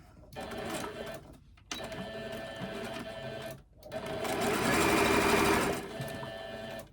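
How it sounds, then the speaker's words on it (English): A sewing machine stitches down the side of a fabric key fob with right sides together, running in three close, steady bursts separated by short pauses, the last one fastest and loudest. "And sew down that side. Keeping that side straight."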